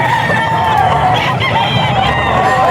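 A SBR bullstag gamefowl rooster crows loudly amid a busy market crowd, with people talking nearby.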